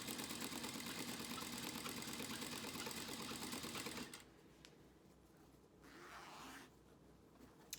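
Sewing machine stitching an invisible zipper in place, running in a steady, busy mechanical whir for about four seconds before stopping abruptly, followed by quieter handling noise.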